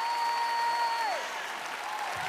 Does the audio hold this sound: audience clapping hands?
yes